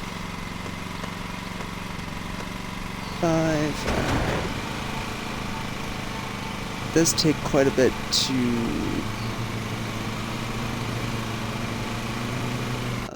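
A newly bought lawn mower that bags the grass runs steadily as a loud engine drone throughout, with short bursts of people talking over it.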